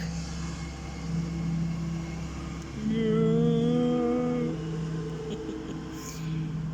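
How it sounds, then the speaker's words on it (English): A big truck passes in roadside traffic, its engine rising to a louder, nearer drone with a tonal hum midway before fading back into steady traffic rumble. "you can't just filter out all the traffic noises"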